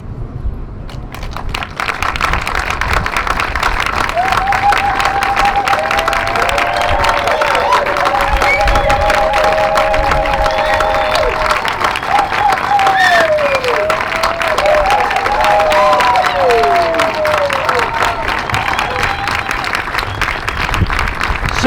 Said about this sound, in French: Un premier temps où nous allons applaudir, mais pendant un peu longtemps, pour applaudir cette force, ce courage, cette dignité partagée.